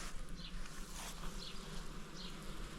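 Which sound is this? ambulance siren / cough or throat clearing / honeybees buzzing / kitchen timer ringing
honeybees buzzing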